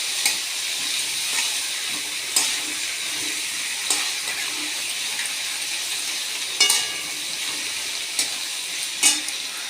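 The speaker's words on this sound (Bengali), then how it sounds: "আলু পেঁয়াজ একসঙ্গে ভেজে নেব।" Potatoes and chopped onion fry in a pan with a steady hiss and sizzle. Sharper clicks and scrapes come now and then as the food is stirred, and no voices are heard.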